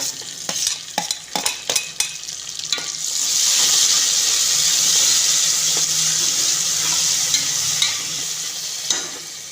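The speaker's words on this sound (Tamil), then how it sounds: "இப்போ நம்ம இந்த தக்காளியை உள்ள தட்டிக்கிடுவோம்" Tomatoes dropped into a pot of sautéed onions: a few sharp clinks and taps at first, then a strong, sustained hissing fry that fills the rest of the clip, close and without speech.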